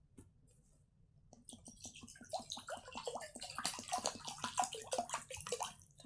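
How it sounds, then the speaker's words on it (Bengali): Cold water poured into a bowl, a quiet close trickle that builds into a steady splashing stream with no talking. "এই যে দেখো একটা বোল নিয়ে নিয়েছি, এতে এখন আমি ঠান্ডা জল দিয়ে দেব।"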